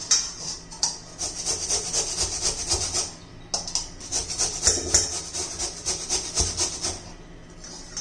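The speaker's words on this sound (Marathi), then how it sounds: "आता मी बटाटा किसून घेते प्रथम" Potato being grated for a spinach breakfast snack, a steady rasping scrape repeated in rhythmic strokes, close and fairly loud, with a short pause partway through and no talk.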